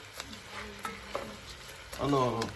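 Chicken rice with vegetables fries in a pan, a close, steady sizzle broken by the scrape and clink of stirring, with a short tonal clatter near the end.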